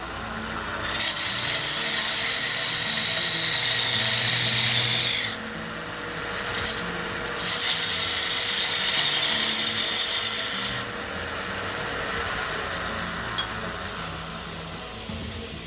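A wood baseball bat spins on a lathe while a cutting tool shaves it, giving a steady scraping, hissing cut that comes in long passes with short pauses between them, close and fairly loud.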